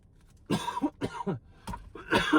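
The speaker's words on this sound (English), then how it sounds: "I read that page so loud that it made me cough." Several sharp coughs in a row, close and loud, with short pauses between bursts.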